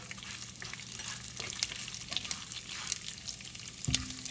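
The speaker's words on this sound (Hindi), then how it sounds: "इनको कलर चेंज होने तक सौटे करेंगे" Chana dal sautéing in a hot pan for lemon rice, a steady soft sizzle with light crackle and occasional stirring scrapes, close and low in level, ending with a brief louder clunk.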